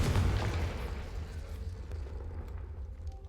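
A Confringo fire-blast spell explodes in Hogwarts Legacy: a heavy, booming blast with deep rumble at the start that slowly fades into a lingering low roar, with no voices.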